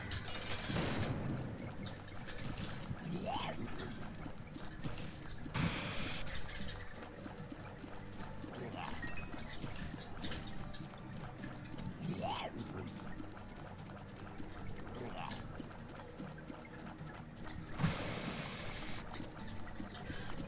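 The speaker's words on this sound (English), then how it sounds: "The water walking noise is quite fun," Splashing footsteps of a character wading through water in The Binding of Isaac repeat in a steady rhythm, sitting inside dense game music and effects.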